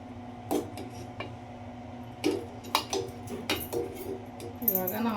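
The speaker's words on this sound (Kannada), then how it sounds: "ಇವಾಗ ನಾನು ಒಂದು ಬಟ್ಲು ತೊಗೊಂಡಿದ್ದೀನಿ ನೋಡಿ" Dishes and utensils clatter in a home kitchen as a bowl is picked out for radish sambar, with sharp clinks and knocks of metal and ceramic scattered irregularly, close and fairly loud.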